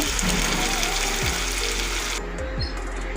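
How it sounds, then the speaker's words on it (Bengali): Chicken curry simmering with a little added water in a pan, giving a steady bubbling sizzle with occasional soft knocks, heard close and continuous without talk. "সামান্য জল দিয়ে আমি 5 মিনিট ফুটিয়ে নেব।"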